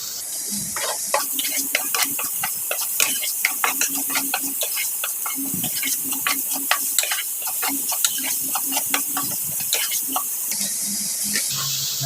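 Onions fry in a pan until golden brown, giving a steady, close sizzle with frequent scraping and stirring clicks throughout, and a voice faintly present under it.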